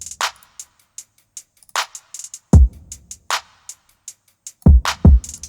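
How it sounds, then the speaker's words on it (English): Trap beat made in Studio One 5: crisp closed hi-hats in a traditional trap pattern, with pitched-up and pitched-down hat rolls, punctuated by deep booming 808 kick hits, no voices. "Next up, I added a second close hat, and this one is more trap traditional."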